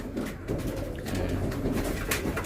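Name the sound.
pigeons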